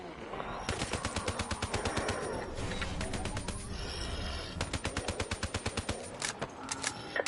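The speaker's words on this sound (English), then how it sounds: "This is a fast shooting gun, isn't it?" Rapid automatic gunfire from a fast-firing gun in Call of Duty Black Ops 3 Zombies, loud bursts of tightly spaced shots with brief pauses between them, over a dense game soundscape.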